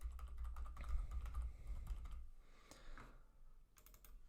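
Close-up typing on a computer keyboard while editing slide text, with a burst of quick key clicks over a low thump, a brief pause, then a few more scattered taps.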